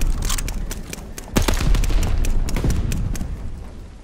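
Gunfire in Call of Duty Vanguard aimed at an enemy recon plane: loud, rapid bursts of shots and booming impacts run almost continuously, dense and close.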